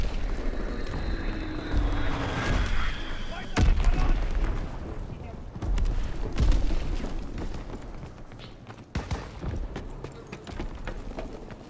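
Bomb explosions in Call of Duty WWII on the Flak Tower map, several heavy booms and blasts with rumbling tails scattered through, mixed with gunfire and game noise, while people talk over it.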